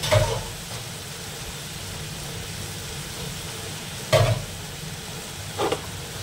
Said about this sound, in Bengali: তো দেখো আমি কিন্তু চিকেনটা ভাজা ভাজা করছি